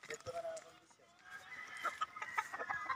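Gamecocks in a backyard fighting-rooster yard cluck and call steadily at moderate distance, with someone talking over the birds throughout.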